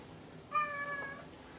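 A single clear house cat meow, a tonal drawn-out call of about two-thirds of a second, close and moderately loud, with no talking over it.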